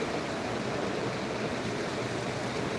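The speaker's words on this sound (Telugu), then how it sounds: "కానీ మనకు మంచి వ్యూ అయితే ఇది ఒక్కటి కనిపిస్తుంది ఇక్కడ వాటర్ ఫౌంటైన్" A water fountain at a Saudi airport gives a steady, continuous rush of splashing water, even and unbroken, with no voices over it.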